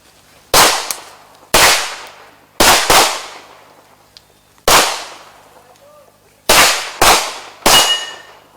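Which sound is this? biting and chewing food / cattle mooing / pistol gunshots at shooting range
pistol gunshots at shooting range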